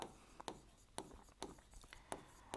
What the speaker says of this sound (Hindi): मैं इस तरीके से एक छोटा सेंटेंस लिखता हूं